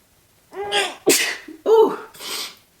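A woman sneezes, a sharp breathy burst followed by a couple of quick voiced gasps and exhalations, close and fairly loud.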